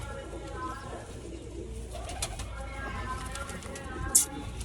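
Soft, low pigeon coos repeat in the background under quiet outdoor ambience, with a brief sharp click near the end.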